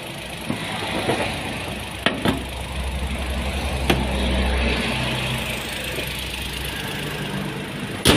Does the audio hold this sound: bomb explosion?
no